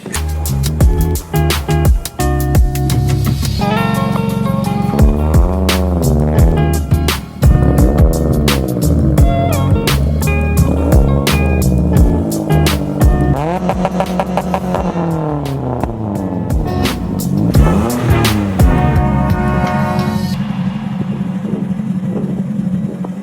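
A Mitsubishi Lancer Evolution X engine revs and climbs repeatedly, pitch rising and falling in sweeps as the turbocharger spools and boost builds, with a sustained roar throughout; a gasket may be leaking.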